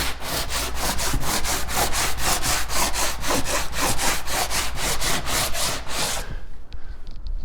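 Loud, fast back-and-forth sanding strokes in a steady rhythm, rough and close, stopping abruptly near the end.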